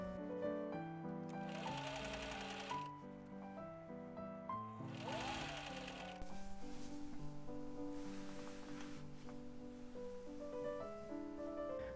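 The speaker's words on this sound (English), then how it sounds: "stitch 5/8 of an inch from the waist seam to make a casing for the waist elastic" A sewing machine stitches a waist elastic casing on a cottagecore dress, running in several bursts of steady rapid clatter with brief pauses between them, heard close and fairly quiet against soft background music.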